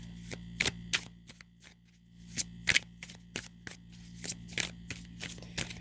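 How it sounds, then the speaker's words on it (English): Playing cards are shuffled close up in a series of sharp riffling bursts and snaps, separated by brief quiet pauses. "I've been shuffling the cards."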